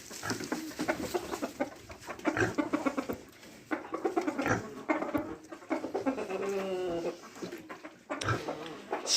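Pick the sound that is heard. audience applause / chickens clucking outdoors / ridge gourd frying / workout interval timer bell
chickens clucking outdoors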